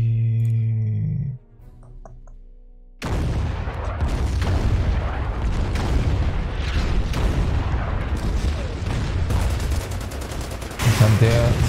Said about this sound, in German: Artillerie.